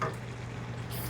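Hot vegetables with garlic being stirred in a pot during family meal prep, a short, even sizzle and rustle of cooking food heard up close for about a second.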